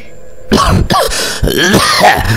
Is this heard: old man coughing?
yes